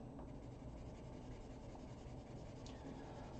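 Soft, continuous scratchy strokes of a colored pencil filling in a drawing on paper, quiet and close, under a steady low background hum.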